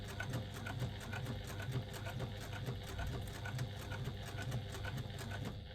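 Sewing machine stitching a wristlet seam with a narrow 1/8-inch allowance, a quiet continuous rhythmic whirr with even stitch pulses throughout, heard alone at a modest level.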